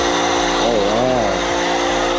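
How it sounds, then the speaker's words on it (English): Leaf blower running in a nearby residential yard, a steady droning engine whine with wavering pitch that continues throughout, while a voice talks over it. "Every time I pull the camera out at my house now, someone starts leaf blowing"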